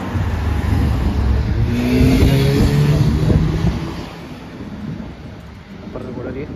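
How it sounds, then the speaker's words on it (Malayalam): A Tata car rolls past on a European street, its engine and tyre noise swelling to a loud peak, then fading as it moves away over a steady traffic rumble. "ടാറ്റ ഇങ്ങോട്ടൊരു വണ്ടി"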